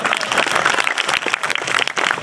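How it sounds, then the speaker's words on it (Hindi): Audience applause at a Shiv Sena candidate's election campaign rally, a dense, steady wash of clapping from a crowd that carries on loudly through the whole short stretch with no talk over it. "अरे बजाओ तालियां यार"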